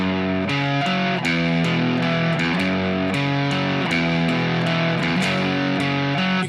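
A distorted electric guitar plays a power-chord arpeggio line, with each note picked separately in a repeating pattern. It is loud, close and sustained, with no voices over it.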